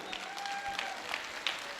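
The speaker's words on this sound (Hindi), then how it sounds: "ताली बजाइए हाथ उठा के जोरदार।" An audience at a Hindi poetry gathering (kavi sammelan) claps, a dense, steady burst of applause from a crowd that fills the whole moment, moderately loud and somewhat distant.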